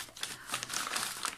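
A plastic bag crinkles and rustles close up as it is opened, in a quick burst of irregular crackles lasting just over a second.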